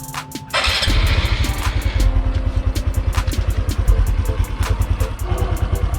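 A Honda XRM RS125 fuel-injected motorcycle with sidecar, two years in use, cranks and catches, then idles with a steady, rapid chugging rhythm close up.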